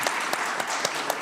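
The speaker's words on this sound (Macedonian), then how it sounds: "Да, може аплауз слободно." An audience at a women's business panel event applauds, with clapping that rises in regular pulses over a continuous wash, moderately loud and without speech.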